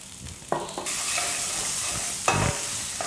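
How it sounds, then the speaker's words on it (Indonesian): Garlic and chili stir-fry in a little hot oil, a steady loud sizzle broken by sharper bursts of spatula stirring and scraping, with no voices. "Kita tumis bawang putih dan cabai."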